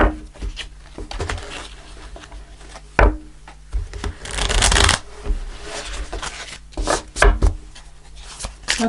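Tarot cards shuffled by hand make close riffling, rubbing bursts and sharp slaps, repeated in uneven rhythm, with brief quiet gaps between.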